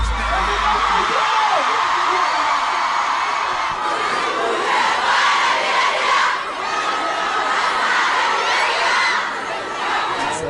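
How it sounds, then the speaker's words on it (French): A large concert crowd cheers and shouts excitedly, a loud, dense and continuous roar with rising waves of yelling throughout. "ils vont aussi un peu exciter la foule qui n'avait pas besoin de ça"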